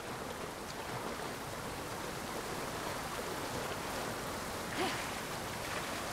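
A waterfall in the video game Immortals Fenyx Rising gives off a steady, broad rush of falling water, constant and fairly close, with a brief faint sound partway through and no talking.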